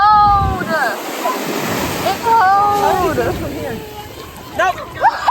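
Ocean surf washes steadily onto a beach around someone wading into cold water at the shoreline, a continuous near rush with swells, while voices cry out and chatter over it.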